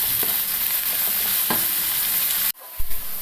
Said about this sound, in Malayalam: നന്നായിട്ട് ഇളക്കി കൊടുക്കണം. എല്ലാം എണ്ണയിലേക്കും വരണം. അതുപോലെ ഇളക്കി വറുത്തെടുക്കണം.